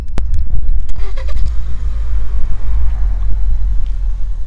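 A Ford vehicle's engine starts by remote key fob with a brief crank, then settles into a steady, loud low idle rumble close by.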